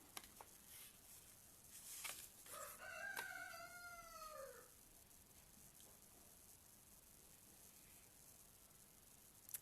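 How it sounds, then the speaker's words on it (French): A rooster on a farm crows once at moderate distance through an open door, a rising then falling call lasting about two seconds, amid faint clucks and scattered farmyard sounds. "Les coqs, les poules, les oies, les chiens."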